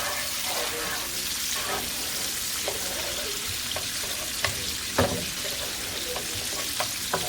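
Bacon fries in a skillet over medium-high heat, a close, constant sizzle broken by occasional sharp pops and spatters, with a few scattered knocks.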